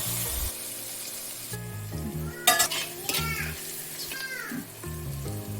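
Onion and tomato fry in a pan for a Godavari-style small-fish curry, with a steady sizzle, utensil scrapes and clinks, and a sharp clatter near the middle, all close by with no talk.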